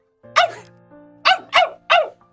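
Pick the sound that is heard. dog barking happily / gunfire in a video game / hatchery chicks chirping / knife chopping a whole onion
dog barking happily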